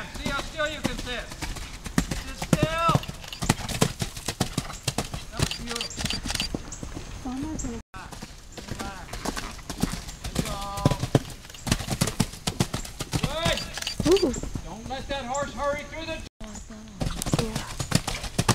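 A horse's hooves clip-clop in a steady walking rhythm close by during a riding clinic, continuing under frequent talking and a few calls throughout.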